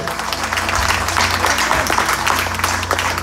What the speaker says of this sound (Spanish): le aplauso a Cristo